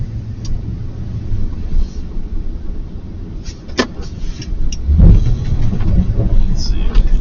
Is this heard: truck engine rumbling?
yes